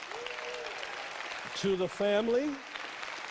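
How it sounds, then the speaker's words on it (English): A church congregation at a Sunday service applauds to welcome new members, with steady clapping throughout while someone speaks over it. "as they are clapping"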